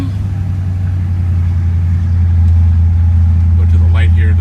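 A 1957 Ford Fairlane Sunliner convertible's engine holds a steady, loud low drone while driving, with the note thickening partway through as it pulls under acceleration; a brief voice-like sound appears near the end.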